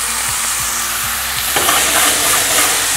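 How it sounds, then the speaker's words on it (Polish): Chickpeas sizzle and fry in a pan with curry, cinnamon and chili, a steady close crackle broken by a few light stirring scrapes and a louder burst of spitting partway through. "Pozwalamy, żeby wszystko się ładnie podsmażyło."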